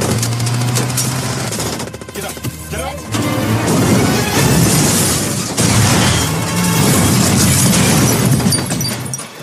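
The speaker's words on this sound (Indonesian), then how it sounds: "mobil yang dikendarai anak buah Presiden meledak" A car driven by a president's henchmen blows up in an action film scene, heard as loud dense crashing bursts and booming rumbles over a continuous score-like din, with a brief dip before the blasts resume.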